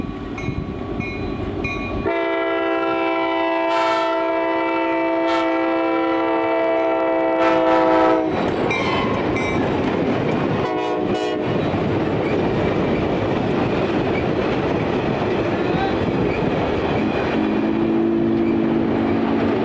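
A US Sugar train with a diesel locomotive leading westbound at Lake Harbor rumbles past, with a long sustained horn blast, then steady wheel clatter and rolling rumble continuing nearby.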